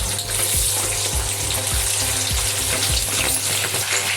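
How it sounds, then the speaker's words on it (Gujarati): Pigeon peas (toor) sauté in hot oil for Gujarati undhiyu, a loud, dense sizzle and crackle from close by with a steady low rumble underneath, constant for the whole stretch. "તો ચલો સાતળીએ. સૌ પ્રથમ આપણે તુવેર નાખીશું"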